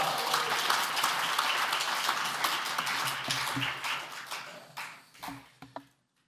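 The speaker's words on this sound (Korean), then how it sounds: "박수로 환영하겠습니다" Church congregation applauding to welcome an elder to the pulpit at a men's mission prayer meeting, sustained clapping that thins out into a few scattered final claps before falling silent.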